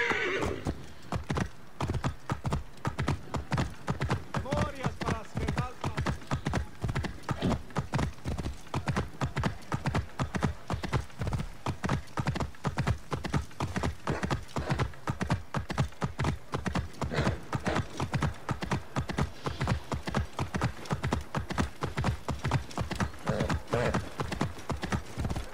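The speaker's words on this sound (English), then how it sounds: "Horse, huh?" Steady, rapid clip-clop of horse hooves trotting on a hard surface in the video game Assassin's Creed Origins, continuous and close throughout, with a faint whinny early on.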